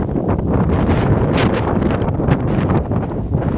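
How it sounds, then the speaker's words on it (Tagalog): Strong wind buffets the microphone continuously, a loud rumbling roar with gusty swells throughout. "So pagpasensya nyo, malakas ang hangin dito."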